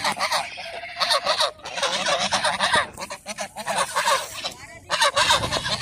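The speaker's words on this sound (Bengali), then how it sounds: "সাদা রাজহাঁস সবুজ রাজহাঁস" A flock of white and grey domestic geese in Itna, Kishoreganj, keeps up a loud, near, overlapping stream of honks with short gaps and no speech.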